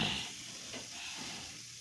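Burgers sizzling over an outdoor fire pit, a soft continuous hiss and crackle of fat, faint and steady with slight swells, no voices.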